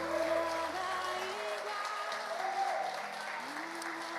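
A church congregation claps in a service, sustained applause filling the room for a few seconds at an even level, with a sung or spoken voice carrying over it.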